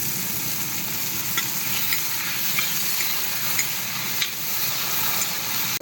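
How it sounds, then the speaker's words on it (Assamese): Onions frying in a pan as the base for a fish curry, a steady close sizzle with faint stirring scrapes and small ticks from the spatula throughout, no voices. "এই পিঁয়াজ ভাজি আছোঁ আগতে তৰকাৰী বনাবৰ কাৰণে"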